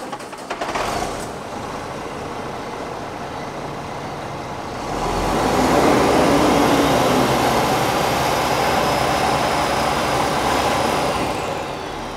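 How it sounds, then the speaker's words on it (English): Truck diesel engine revved at wide open throttle during a snap acceleration test: a loud, close idle rumble surges into a sustained high roar for several seconds, with no talk. "we're going to crank up the truck and we're going to rev the engine up wide open throttle for 3 to 5 seconds"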